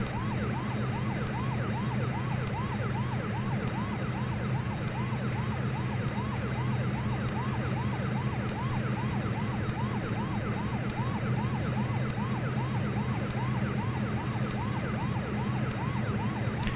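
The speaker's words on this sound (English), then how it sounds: "the little clicking in the background too is also just related to the sound of that siren" A Q400 flight simulator siren loops continuously in quick, even wails over a constant low engine hum, with faint clicking in the background.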